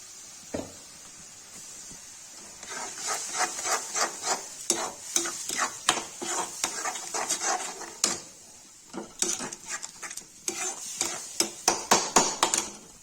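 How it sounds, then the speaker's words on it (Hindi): Repeated scraping and clattering of a spoon stirring spinach curry for palak paneer in a pan, a quick uneven rhythm with light sizzling underneath. "सिर्फ पालक डाल देंगे, चला देंगे"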